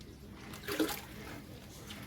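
Water is poured briefly and softly into a fish tank during cleaning, giving a short, faint splashing gush against quiet background hiss.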